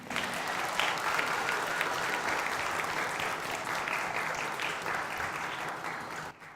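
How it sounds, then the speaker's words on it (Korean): An audience at a children's book concert gives author Kim Jong-jin sustained, dense applause, a thick, even roar of many hands that stays loud for over six seconds before cutting off. "김종진 작가님께 다시 한번 박수 부탁드리겠습니다"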